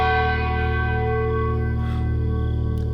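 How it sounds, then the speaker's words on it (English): A tolling church-style bell used as a stage effect in a school theatre production of Macbeth rings with a sustained, reverberant tone that fills the whole stretch, loud and steady with no talk over it. "The bell invites me."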